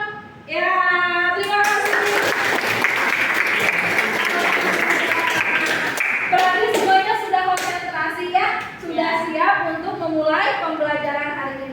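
Group of people clapping in a classroom clapping game, bursts of rhythmic hand claps mixed with voices chanting along, loud and close.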